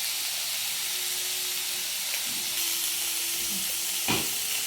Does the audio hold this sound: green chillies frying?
yes